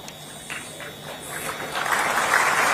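Applause from a hall audience welcoming a newly appointed computer operator at an appointment-letter ceremony in Lucknow, a steady wash of clapping that swells louder toward the end, with no voices.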